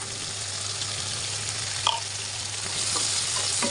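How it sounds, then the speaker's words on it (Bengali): Vegetables with soy sauce are stirred in a frying pan, making a steady, moderately loud sizzle with a few brief scrapes and knocks of the utensil and no speech. "আমি এখন একটু ভালো করে নাড়াচাড়া করে নেব।"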